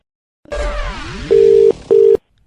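A telephone being dialed: a brief warbling electronic chirp, then two loud, steady keypad tones, each lasting under half a second, with a short gap between them, close and clear.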